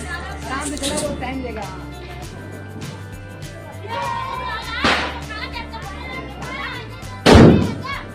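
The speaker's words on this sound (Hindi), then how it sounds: "यहाँ मैं फोड़ी आलू बम" An aloo bomb firecracker bursts at Diwali with a single loud, close bang near the end, after earlier smaller pops amid children chattering and festive talk throughout.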